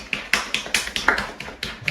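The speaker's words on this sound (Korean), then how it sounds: "박수 드리겠습니다." A few people clap after a student interview, about a dozen sharp separate claps in a quick uneven rhythm, close and fairly loud with no voices over them.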